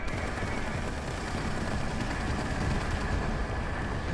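An artillery barrage in War Thunder tank combat, a dense continuous rumble of rapid blasts running steadily throughout without a break.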